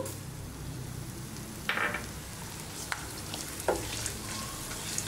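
Tamarind and sesame seeds frying and being stirred in a pan, a steady soft sizzle with a few louder scrapes and clinks of the spoon, no voices.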